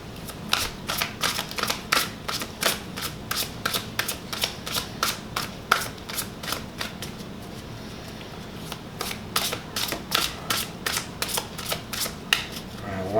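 Tarot cards are shuffled by hand in a steady run of rapid crisp riffling clicks and flutters, close and fairly loud, continuing almost without pause with brief gaps.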